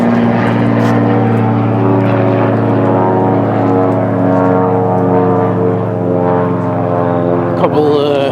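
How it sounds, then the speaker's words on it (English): World War II propeller warplanes drone overhead near an airport, a loud, sustained engine roar with steady harmonic tones that hold throughout and swell slightly, close and dominant. "Couple warplanes, World War II planes."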